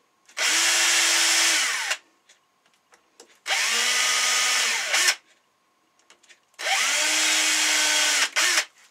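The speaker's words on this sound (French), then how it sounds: "Je mets un petit coup de perceuse dans chaque trou." A power drill bores holes in a homemade Kreg pocket-hole jig, three steady whirring runs of about a second and a half each, close and loud, separated by quiet gaps with light handling clicks.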